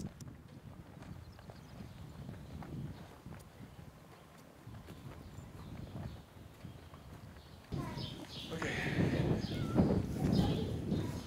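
Several working draft horses heading out to log in the woods on a Wisconsin farm, their hooves clopping in an irregular walking rhythm at a moderate distance, with wind noise and outdoor ambience that grow louder and busier near the end.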